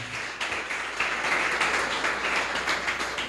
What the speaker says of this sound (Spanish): Dale un aplauso al Señor en esta mañana.